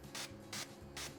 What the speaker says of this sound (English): Let's go ahead and spray this with some kitchen spray.